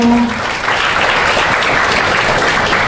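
An audience at a talk applauds warmly, loud and continuous clapping filling the room from start to finish, with a brief voice heard at the very beginning.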